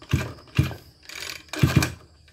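Someone yanks the starter cord of a Tanaka 368 36cc brush cutter, giving four quick ratcheting rasps in close succession, close up and without speech.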